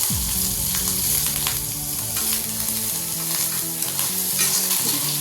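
Ginger, shallots and curry leaves sizzle steadily in hot oil while being stirred and sautéed for pappada chammanthi, a dense continuous frying crackle with occasional spoon scrapes, close and fairly loud, no talking.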